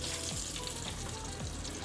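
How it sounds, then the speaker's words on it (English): Catfish frying in hot oil, a steady dense sizzle and crackle that runs without a break, close and fairly loud, with a few faint clinks underneath. "Say hello, we're frying our fish here."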